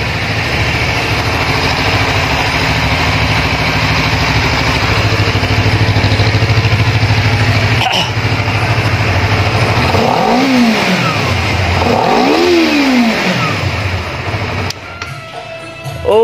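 A GSX 150 motorcycle engine idles loudly up close, then revs twice in rising and falling sweeps before settling.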